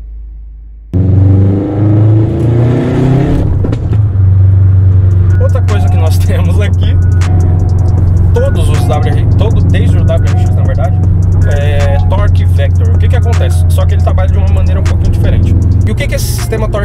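A tuned Subaru WRX STI with an IAG engine making over 420 hp fires up and accelerates hard, its loud, close exhaust roaring and rising through the revs in a long, sustained pull.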